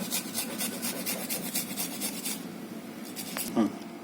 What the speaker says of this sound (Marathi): अद्रक आहे ना थोडं किसून घेते